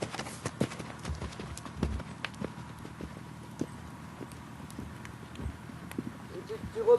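A horse's hooves clip-clop in a steady walking rhythm during a dressage riding lesson, moderately close, while an instructor talks over them throughout.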